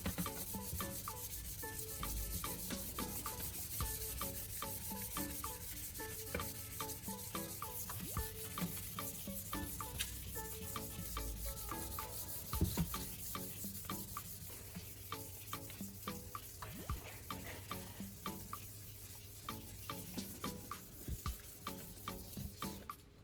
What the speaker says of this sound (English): Scrub evenly across the headlight surface.